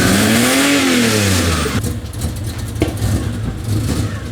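A wagon engine running on E85 revs hard under throttle, pitch climbing and falling loudly up close, then it drops back to a rough, uneven idle with blips.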